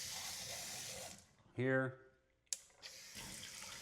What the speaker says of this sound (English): To wash my hands with 4 different settings. And the water's hot.